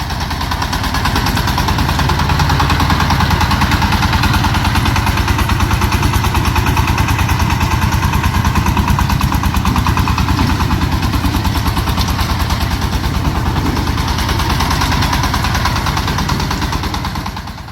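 A tractor engine runs through a coconut plantation while cutting rings around the palms. Its loud, steady, throbbing drone with a rapid mechanical pulse stays close and constant from start to finish.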